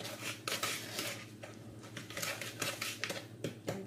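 A whisk beats apple pie batter of milk and other ingredients in a bowl, making rapid, uneven scraping and tapping clatter that sounds close and continuous.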